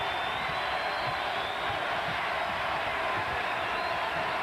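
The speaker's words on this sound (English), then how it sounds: "UMass crowd getting into it." Arena crowd noise from a UMass basketball game in the 1995 East Regional Final against Oklahoma State, a steady broad roar of cheering fans holding constant throughout.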